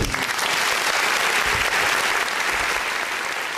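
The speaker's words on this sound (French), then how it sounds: "J'attends la fin des applaudissements." A studio audience claps in a steady, dense burst of applause that stays loud throughout, with faint voices murmuring underneath.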